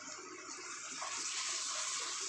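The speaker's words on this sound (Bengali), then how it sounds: "এবার আমি জল দেবো। জল অবশ্যই গরম জল দেবেন।" Hot water pours into lentil dal for tarka dal, a steady rushing gush that swells partway through and stays loud to the end, with no speech.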